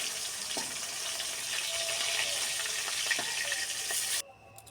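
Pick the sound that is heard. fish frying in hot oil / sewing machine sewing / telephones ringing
fish frying in hot oil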